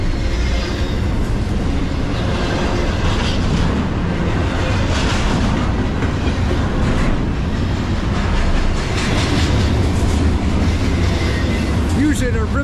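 A Norfolk Southern 22X freight train led by a 2012 BNSF GE ES44 locomotive rolls past at restricted speed, a loud continuous rumble and rattle of railcars that holds steady throughout, with a voice briefly underneath.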